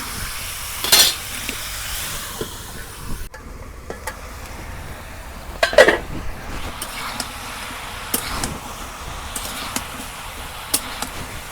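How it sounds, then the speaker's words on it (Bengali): Ash gourd and bata fish curry is stir-fried in fish broth over a village clay stove, with a steady low sizzle and occasional sharp clinks of a utensil against the pot. "মাছের ঝোল দিয়ে তরকারি কষে নেব"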